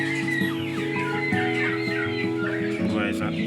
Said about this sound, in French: de ce côté, j'ai les poules ici